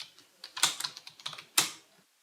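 Keys clatter on a computer keyboard in short irregular bursts, close and crisp, while HTML text is typed into an editor; no one talks, and the typing stops near the end.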